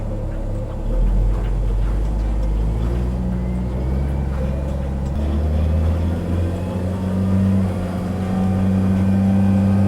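A tractor engine is throttled up, giving a loud, close, steady low diesel drone whose pitch climbs and settles higher partway through, heard alone without talk.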